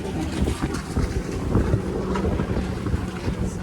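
A sailboat running offshore in the Gulf Stream under mainsail and jib, with constant buffeting wind noise and rushing water around the hull, rough and unbroken throughout.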